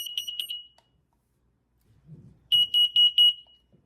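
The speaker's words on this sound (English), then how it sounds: "I tested it using the built-in test button, and the alarm is sharp and attention-grabbing" A SITERWELL portable 10-year carbon monoxide detector sounds its alarm during a test-button check: a short burst of rapid piercing beeps, a pause with faint handling noise, then four loud, evenly spaced shrill beeps close by.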